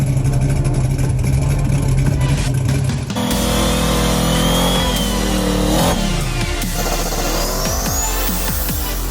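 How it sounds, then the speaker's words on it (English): A turbocharged, LS-swapped Camaro engine runs in a hot garage, a loud steady drone that shifts pitch partway through, with whining tones rising over the rumble and no talking. "So the Camaro's running"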